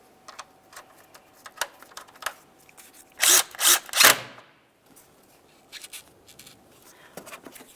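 A power tool snugs a coolant reservoir mounting bolt on a 2003-2011 Mercury Grand Marquis, giving three quick close bursts midway through a mostly quiet stretch with faint handling clicks around them.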